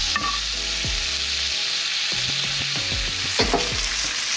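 A fish fillet pan-frying in butter crackles and sizzles loudly and steadily, with a few close utensil clinks and pan knocks over the hiss.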